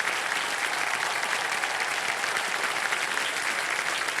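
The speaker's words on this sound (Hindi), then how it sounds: "तो जोरदार तालियों से स्वागत कीजिए" Studio audience on a television quiz show applauding to welcome a guest, a dense, steady wash of clapping from a large crowd, close and sustained throughout.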